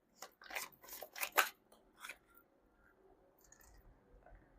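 Tarot cards are shuffled close up in a run of crisp riffling, slapping bursts for about two seconds, then the handling fades into faint rustling.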